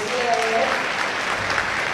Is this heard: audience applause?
yes